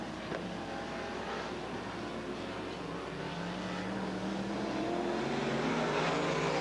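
Race cars roar around the Southern Oregon Speedway oval in a steady, loud engine drone with rising and falling pitch as cars pass, the sound building slightly toward the end with no talk.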